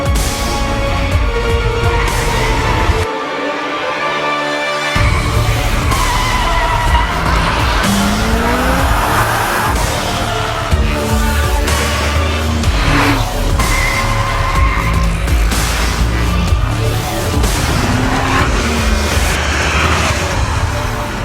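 A supercharged 3.5-litre V6 mounted behind the cabin of a Lotus Exige S roars steadily as the car accelerates, loud and continuous throughout, with tyre squeal and a brief dip at a gear change.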